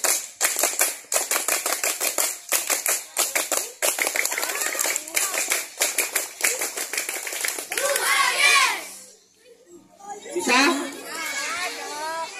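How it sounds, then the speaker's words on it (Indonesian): Schoolchildren in a fifth-grade class at an elementary school celebration perform the scout clap, a quick patterned rhythm of sharp hand claps repeated in bursts, with children's voices and chatter breaking in between rounds. "Coba tepuk pramuka berkali-kali."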